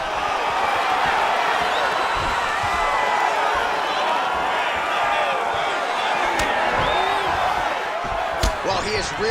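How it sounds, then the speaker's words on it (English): A UFC 5 video game arena crowd roars steadily in appreciation during a grappling exchange, a loud dense wash of cheering and shouting with scattered thuds, continuous throughout. "the crowd pops in appreciation as the fighters work their way back"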